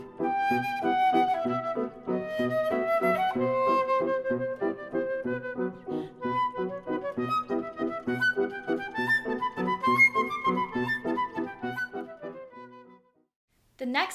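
Flute and piano play the Dance of Aragon from Carmen, a lively melody over steady chordal accompaniment that runs continuously for most of the stretch, then breaks off into a brief silence near the end.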